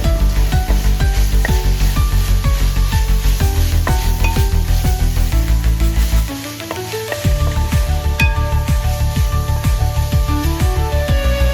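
Garam masala going into egg noodles frying in a pan, a loud continuous sizzle with rhythmic scraping and tossing strokes, briefly easing before the steady stirring resumes; no talking.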